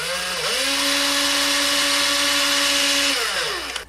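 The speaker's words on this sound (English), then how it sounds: "I'm taking the brad, I've cut it off, and I put it in the drill, and I'm going to just use it to drill my starter hole right here." A power drill fitted with a cut-off brad as a bit spins up and drills a starter hole during a guitar neck repair, a steady loud whine lasting about three seconds before winding down, no talk.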